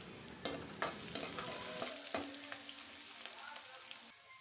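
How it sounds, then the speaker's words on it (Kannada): Chopped thick onion frying in about half a cup of hot oil in a pan with mustard seeds, a steady close sizzle broken by a few sharp clinks and scrapes of stirring. "ಒಂದು ದಪ್ಪ ಈರುಳ್ಳಿ ಕಟ್ ಮಾಡಿ ಅದನ್ನು ಸೇರಿಸ್ಕೊಳ್ಳೋಣ. ಈಗ ಈರುಳ್ಳಿ ಫ್ರೈ ಆಗಲಿ."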